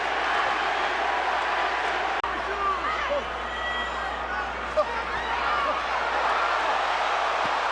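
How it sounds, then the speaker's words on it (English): A large arena crowd at a boxing match between Manny Pacquiao and Joshua Clottey roars steadily in the background, a dense continuous rumble of cheering beneath ringside commentary. "Crowd wanting to see the knockout."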